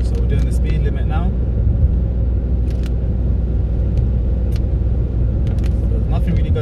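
A car on a London road picking up speed toward the limit, its engine a loud continuous low rumble close inside the cabin, with faint clicks over it and no speech heard.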